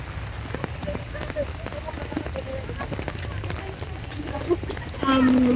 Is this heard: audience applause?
no